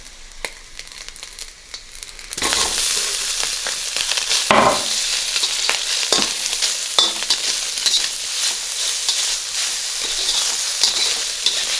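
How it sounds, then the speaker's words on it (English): Spam hitting hot oil in a pan for fried rice, bursting into a loud, steady sizzle after a quieter start, with occasional scrapes and stirs on top. "we're going to add a little bit more oil and add the Spam"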